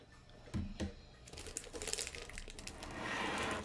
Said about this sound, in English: So you guys don't have to hear me crinkling that thing every single time I go in for a schniack